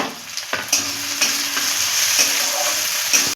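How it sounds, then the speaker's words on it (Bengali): Onion, garlic, ginger, green chillies and dried red chillies frying in oil and being stirred, a loud continuous sizzle close by with a few sharp scrapes of the spoon against the pan. "এবার আমি এই যে পেঁয়াজ, রসুন, আদা, কাঁচা লঙ্কা, শুকনো লঙ্কা এগুলো আগে আমি একটু ভেজে নেব।"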